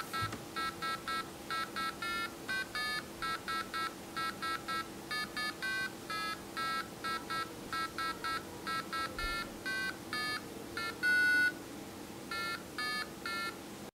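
An 8008-based single-board computer beeps out the William Tell tune as a rapid, rhythmic run of short electronic tones over a steady low hum, with no talk.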